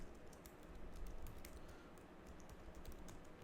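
Steady typing on a computer keyboard, with rapid close key clicks in an uneven rhythm, quiet and without talk.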